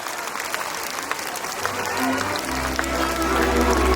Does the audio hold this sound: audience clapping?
yes